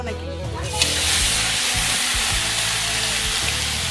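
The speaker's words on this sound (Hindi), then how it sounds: "ऑयल अभी डाला जा रहे, डक का मीट डाला जा रहा है कढ़ाई पे" Duck meat hits hot oil in a kadhai with a sudden loud burst of sizzling, then fries in a dense, steady crackle close up while a voice talks faintly under it.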